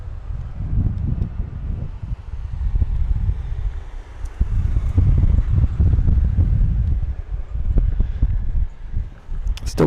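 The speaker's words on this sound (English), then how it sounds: "Still kind of windy" Gusty wind buffeting the microphone outdoors at a baseball game between Armstrong and Gateway, a loud, low, rumbling roar that rises and falls in waves throughout, with no talk.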